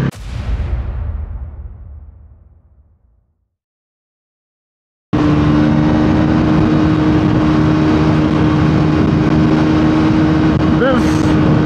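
A Bajaj Pulsar NS400Z motorcycle roars loudly, fading out, then after a brief silence its engine returns as a steady, dense high-speed drone that runs unbroken to the end.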